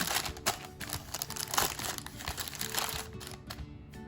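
Parchment paper crinkles and rustles loudly and close as bread dough for a vegan tomato basil loaf is dropped into a lined tin, with continuous crackling and small bursts throughout.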